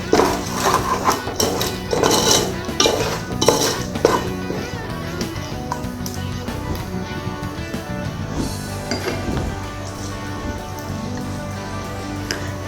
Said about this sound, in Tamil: அந்த தயிர் இந்த இது எல்லா மசாலாலாம் நல்லா சேர வரைக்கும் கொஞ்சம் நேரம் கிளறி விடலாம்